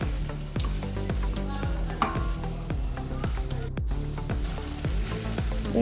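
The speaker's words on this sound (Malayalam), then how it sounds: "കഴുകി ഊറ്റി വെച്ചിരിക്കുന്ന മന്തിയുടെ റൈസ് നമുക്ക് ഇതിലേക്ക് ചേർക്കാം" Washed, drained basmati rice goes into a hot mandi pot and sizzles steadily, with repeated scraping stir strokes in a regular rhythm, close and fairly loud.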